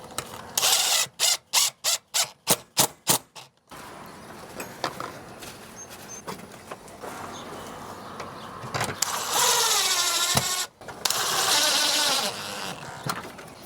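A power drill drives long screws through a mini split line-set weather head into an exterior wall, opening with a rapid series of sharp bursts, then quieter handling, then two longer whirring runs that rise in pitch.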